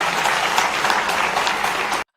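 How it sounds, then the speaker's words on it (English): An audience applauds in a sustained, dense burst of clapping for about two seconds, then stops abruptly into silence. "And the people applaud this"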